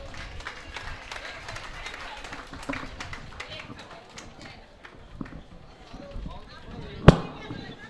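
An audience at a Hindi poetry gathering claps in a loose, crackling patter of scattered hands, moderately loud throughout, with one sharp loud snap near the end.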